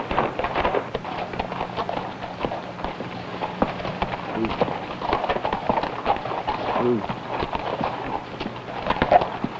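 Horse hooves clip-clop in an irregular rhythm at moderate distance, with brief tonal sounds and faint background voices.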